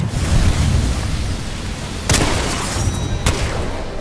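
A grenade explodes in Apex Legends with a sharp, loud burst partway through, a second crack following a moment later, over dense rumbling combat noise.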